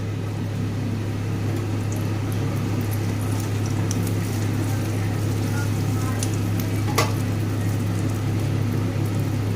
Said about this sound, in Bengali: দেব গোটা জিরে ফোড়ন।